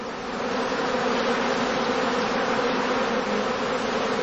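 A honeybee swarm drones in a dense, continuous buzz at a heather skep apiary, steady and close with no breaks.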